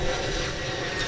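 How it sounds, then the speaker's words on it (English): An Airbus A220-100 jet on a Delta flight bound for Minneapolis at DFW Airport, a broad steady engine roar filling the air at moderate distance with no pause. "So here's an Airbus A220-100 model. It's going to Minneapolis on Delta Flight"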